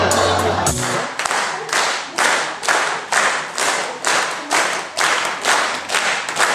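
An audience at an impersonation and sketch comedy evening claps in steady rhythmic unison, loud and close, each beat a broad burst of hands repeating about twice a second.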